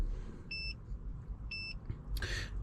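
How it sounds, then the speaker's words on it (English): A BYD car fitted with a Ghost-2 immobiliser gives two short, clear electronic beeps about a second apart over a low idle rumble, followed by a brief click. "It's going to beep."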